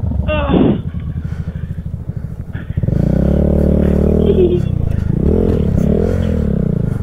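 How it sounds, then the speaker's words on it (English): A motorcycle engine idling and then revving up nearby, a loud, steady rumble with a person talking over it briefly at the start. "Ooh, a bike. A motorcycle."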